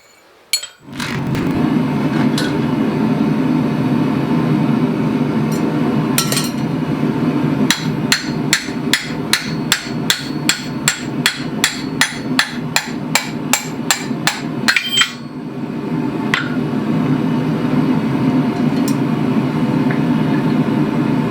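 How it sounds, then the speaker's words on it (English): A rapid run of sharp, ringing hammer blows driving a hot punch through steel at a forge, evenly spaced and loud, over a steady low roar, then the striking stops. "we'll be able to hammer that straight through"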